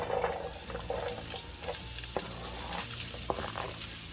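Onion sizzles and fries in olive oil in a large skillet over medium heat, a soft steady crackle broken by light scrapes and clinks of stirring, fairly quiet and close.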